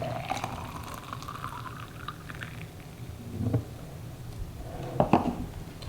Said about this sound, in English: I'm gonna go ahead and pour it in this glass so you can see that there is no pulp in here